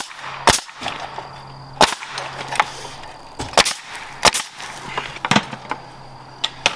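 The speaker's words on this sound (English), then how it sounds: "We like using a nail gun because it's a lot faster." A nail gun fires into wooden privacy fence pickets: sharp, close, percussive shots at an uneven pace, about eight in under seven seconds, over a low background hum.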